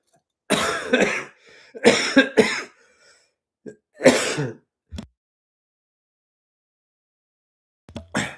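Several throaty coughs and throat-clearing bursts come in clusters, close and fairly loud, with quiet gaps between them and a final short cough after a pause.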